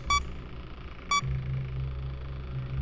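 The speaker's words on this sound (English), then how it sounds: "Two beeps and radio silence." Two short, high electronic beeps about a second apart sound in the Five Nights at Freddy's 3 video game, followed by a low steady hum.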